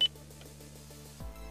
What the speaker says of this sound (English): Wait until you hear a beep, then speak your command.